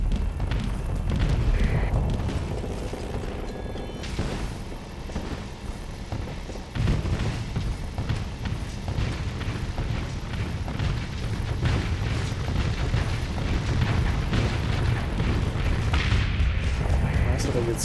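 The Cryoblaster ship weapon fires in the space game Starsector amid a dense, continuous barrage of booming blasts and explosions, loud throughout, with a player's voice talking over the battle.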